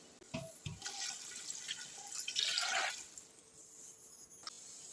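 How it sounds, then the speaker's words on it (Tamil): Water pours and splashes into a cooking pot of rice for a couple of seconds, with a few clinks of metal at the start and after. "நம்ம 8 டம்ளர் தண்ணி சேர்த்துக்கலாம்"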